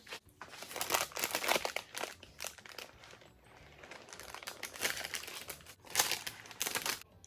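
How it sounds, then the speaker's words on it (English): Crinkly, papery rustling and crackling comes in uneven bursts, close and fairly quiet, as a sheet of wax paper is slowly peeled away from a lemon pound cake. "so now we're going to gently remove the wax paper."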